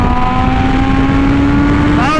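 Engine of a custom 2022 BMW S1000RR sport bike holding a loud, close, high-pitched rev for about two seconds before the pitch rises sharply as the throttle opens at the end.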